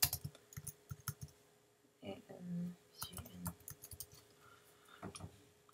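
Quiet clicks of typing on a computer keyboard while an email subject is entered in the Canvas learning platform, irregular light taps in short bursts, near and faint, with a voice speaking between them.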